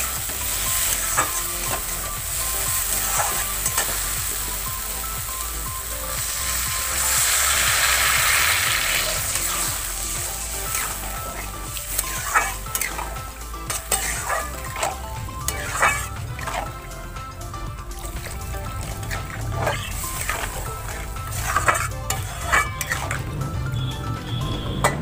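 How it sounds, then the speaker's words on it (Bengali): Water poured into fried masala for rui fish kalia in a pan, with a steady sizzle, a bubbling surge, then repeated close spoon scrapes and stirring clicks. "তো মশলাটা আমার কষে গেছে, আমি এবার জল দেবো অল্প করে।"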